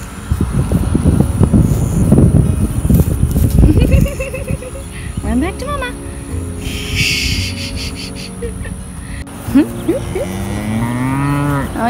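A Jersey cow out on pasture gives several long, loud, drawn-out moos close by, with someone talking over part of it against steady outdoor insect buzz.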